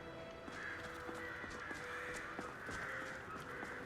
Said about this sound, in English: I can't not play with the crows.